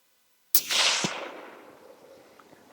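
One sharp, loud rifle shot fired at a distant animal outdoors, followed by a long rolling echo that fades slowly into quiet.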